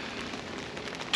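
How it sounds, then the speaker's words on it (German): Rain falling outdoors during a December fishing trip, a steady dense hiss of drops close by, alone, ending in a brief sharper sound. "weil ihr wahrscheinlich auch hört, es regnet noch"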